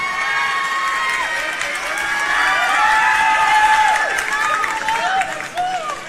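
A lively crowd cheers and shouts loudly and continuously, with some clapping mixed into the noisy, overlapping voices.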